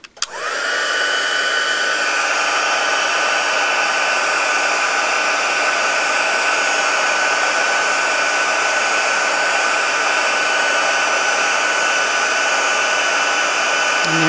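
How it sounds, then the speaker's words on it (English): A heat gun blows steadily while melting embossing powder on a handmade greeting card, giving a loud, continuous whirring hiss with a constant tone that runs without a break from start to finish. "And then turn the heat gun on again."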